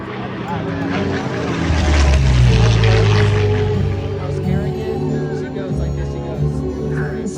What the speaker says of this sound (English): Here comes the P-40 low and fast.